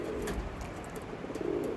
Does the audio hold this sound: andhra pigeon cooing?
yes